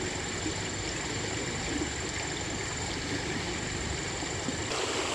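A forest stream flows steadily, a continuous broadband wash of running water heard up close with no voices.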